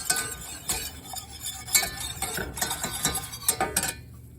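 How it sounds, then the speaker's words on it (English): Food being stirred while cooking, with scattered clinks and scrapes of a utensil against a pot at an irregular rhythm, close by and without talk. "Alright, so I'm going to be here stirring this."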